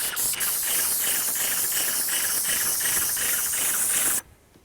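A paint sprayer blowing wood stain onto a shed outdoors gives a loud, steady hiss with a faint rapid pulsing underneath, then cuts off abruptly near the end, with no talk.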